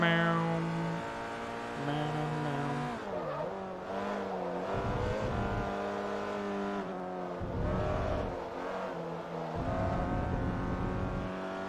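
Peugeot racing car in Forza Motorsport 3 with a strong engine note climbing through revs, dropping at each gear shift and rising again across several shifts, loud and close with no talk.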